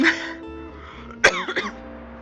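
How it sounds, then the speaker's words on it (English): A single sharp cough rings out close by, followed by a couple of smaller throaty coughs, with a quiet steady hum underneath. "this cough drives me crazy"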